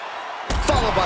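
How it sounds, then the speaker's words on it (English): A single heavy stomp on a wrestling ring mat during a WWE SmackDown match, a sharp loud thud followed by arena crowd noise and commentary. "Followed by the stomp."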